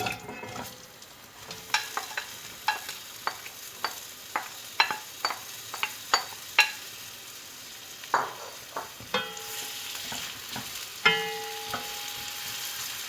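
Onions frying in about a quarter cup of oil in a kadai, a soft, steady sizzle broken by a run of sharp, regular clinks and scrapes from a stirring spoon, close up and quiet with no one speaking.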